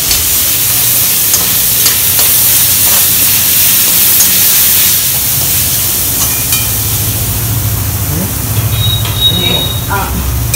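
Tomatoes frying and being stirred in a pan, a loud continuous sizzle with scraping stir strokes throughout, steady and close, with faint kitchen clatter near the end.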